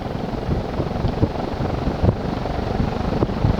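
A Casablanca Lanai 45-inch ceiling fan from around 2003 running at full speed gives off a steady, broad rushing whoosh of moving air, continuous and fairly loud, close by with no talking.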